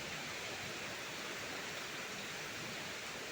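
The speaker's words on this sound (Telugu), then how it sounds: "రోడ్డు మీద కూడా నీళ్ళు వెళ్ళిపోతున్నాయి బాగా." Steady broadband rush of water flowing along a road, continuous and fairly close with no clear breaks or voices.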